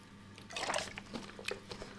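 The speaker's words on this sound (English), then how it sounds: "Time to take another drink of my German water." Wet sipping and swallowing as someone takes a drink of German bottled water, close and quiet, with soft liquid gulps over about two seconds and no talking.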